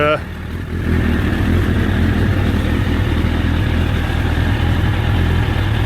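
A Suzuki Bandit GSF1200 Mk1 motorcycle engine idles while warming up, a loud, close, steady carbureted rumble that holds an even pitch throughout after a brief quieter start.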